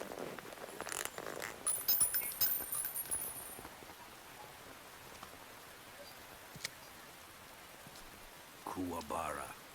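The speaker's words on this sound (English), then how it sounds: "Oh, rain, good." Rain falls steadily in Metal Gear Solid 3 Subsistence, a soft, even hiss with faint drips, joined by brief rustling and scraping sounds near the start and end.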